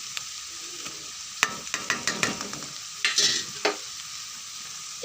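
Spoon scraping and stirring masala into shallots frying in oil for a sardine curry, with irregular sharp scrapes and clinks over a steady sizzle, close and clear with no talk.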